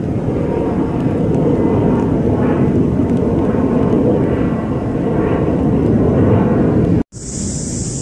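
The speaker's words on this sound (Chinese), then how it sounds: "天空中还有飞机啊" An airplane passes over a hilltop park in Shenzhen, a loud, broad continuous roar that holds steady for several seconds before an abrupt break and a high tonal whine.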